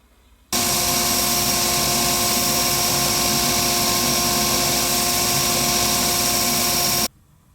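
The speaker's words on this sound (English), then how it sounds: "So let's take that over and get this sanded up." A power sander grinds steadily against a handmade windshield scraper, a loud, continuous whine with a constant tone that starts abruptly, holds for about six and a half seconds, then cuts off, with no talking.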